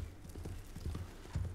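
Horse hooves clip-clop in Red Dead Redemption 2, a quiet, steady rhythm of muffled low thuds at a walking pace with no other sounds over them.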